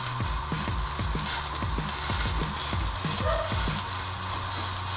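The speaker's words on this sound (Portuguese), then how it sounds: "a frigideira aqui já tá esquentando, e agora vamos pegar então o nosso primeiro bifinho. Bonito. E vamos colocar ele direto aqui na frigideira" A beef steak sears in a hot frying pan with a loud, steady sizzle and crackle, and a rhythmic series of low thuds runs underneath.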